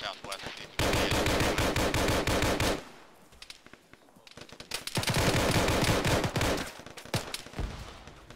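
Machine-gun fire from the Arma military video game rattles out in long, loud sustained bursts, broken by a short lull and followed by further rapid volleys.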